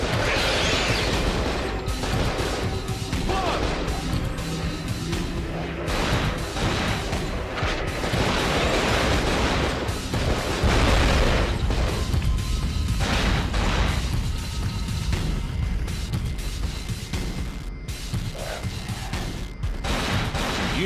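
Gunfire and explosions as a transformer is shot in the survival horror game Cold Fear, with repeated sharp shots, crashes and booming blasts in dense bursts over a running mechanical background.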